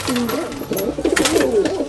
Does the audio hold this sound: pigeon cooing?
yes